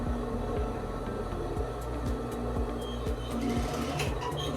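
A sewing machine stitching a blazer seam over overlocked edges, a rapid, even mechanical chatter with regular thumps, running steadily and close for several seconds with no talking.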